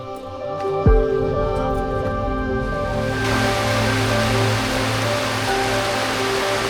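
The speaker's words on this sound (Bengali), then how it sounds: "বৃষ্টি হচ্ছে এবং দূরে দেখতে পাচ্ছেন আপনারা একদম ঝুম বৃষ্টি যাকে বলে" Heavy rain pours on a hill trek, starting as a lighter patter with a sudden thump, then swelling into a loud, unbroken downpour hiss that drowns everything else.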